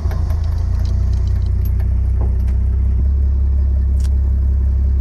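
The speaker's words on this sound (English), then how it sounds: "We'll let it sit here and idle for a sec," A car engine idles steadily and close, a constant low rumble with faint metallic clicks and light rattles on top and no talk.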